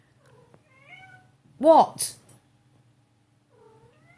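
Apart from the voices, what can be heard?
cat meowing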